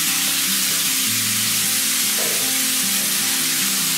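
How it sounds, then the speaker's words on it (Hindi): Dal with turmeric is stirred in a cooking pot over the heat, giving a constant loud sizzle and hiss with soft scraping movements beneath it and no talking. "इसको अच्छा मिक्स करेंगे"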